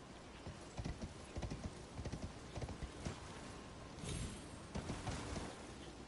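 Horse hooves clip-clop in an irregular trotting rhythm in the video game Elden Ring, fairly faint and steady, with no talking.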